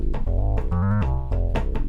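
Bass patch from synth 1 of a Novation Circuit, a loud, dense run of deep, buzzing notes changing pitch in a quick rhythmic pattern, playing continuously with no talking.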